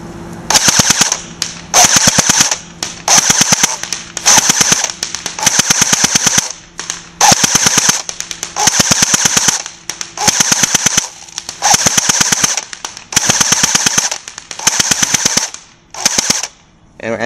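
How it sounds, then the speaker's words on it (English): AGM Full Metal 614 airsoft gun firing in long, rapid full-auto bursts, a loud mechanical rattle repeated about a dozen times with brief pauses between strings, no talking. "So we're going to be shooting a little bit more."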